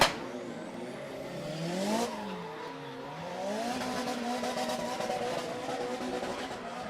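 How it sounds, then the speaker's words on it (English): Drift cars in a Pro2 battle at the Irish Drift Series: engines rev with pitch rising and falling through the throttle, plus a thin tire-squeal edge, loud and sustained with no talk over it. "As we wait for the engine noise to die down"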